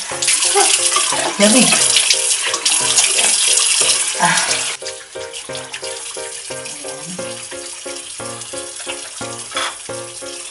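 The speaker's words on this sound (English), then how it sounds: "maghilamos muna ako bago ayos" Tap water runs steadily and loud for the first five seconds as someone washes their face at a sink, then cuts back to softer splashes and rattles; a voice speaks briefly over it.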